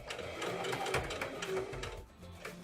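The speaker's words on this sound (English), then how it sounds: "we are going to sew right up very carefully right into that ditch of that pocket" A home sewing machine stitches steadily along a dress pocket seam, a continuous close mechanical whir with a fast, even rhythm, slowing slightly near the end.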